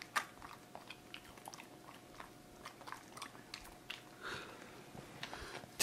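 A small dog chews and bites on a piece of shrimp, producing soft, irregular crunching and smacking sounds close up in a quiet room, with brief pauses between bites.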